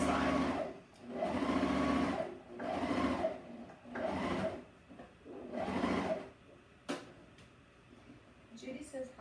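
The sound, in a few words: twin-needle sewing machine stitching a T-shirt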